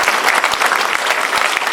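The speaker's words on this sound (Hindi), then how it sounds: "हम सब लोग तालियां बजाकर" An audience at a college event in Patna breaks into loud, dense applause, many hands clapping at once in a continuous burst, with no voices heard over it.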